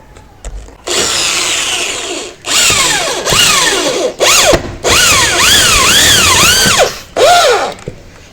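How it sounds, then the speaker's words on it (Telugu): A power drill drives a screw into a UPVC roof sheet in several loud, close bursts, its motor whining up and down in pitch with short pauses between pulls of the trigger. "దారంకి మధ్యలో దీని కింద అయితే మనం స్క్రూ వేసుకోవాలి"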